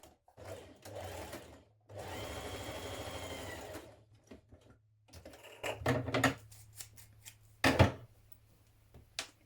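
Sewing machine stitching interfaced trouser back yoke sections together at the centre back, heard in several bursts of steady mechanical whirring separated by pauses, close and fairly loud, with short clicks and handling noises between runs.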